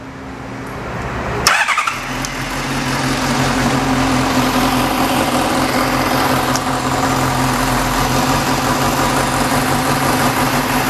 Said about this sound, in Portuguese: O motor em regime de marcha lenta